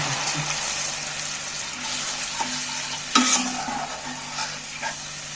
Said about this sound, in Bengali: মশলাটা কোথানো হয়ে গেছে তেলও ছেড়ে দিয়েছে আমি বাটি ধোয়া জল একটু সাইড দিয়ে দিয়ে